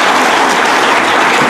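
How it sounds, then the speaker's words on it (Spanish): Loud, dense applause from a church congregation during a worship service, steady and sustained throughout with no voices over it. "Así que demos un fuerte aplauso y gracias de todo corazón."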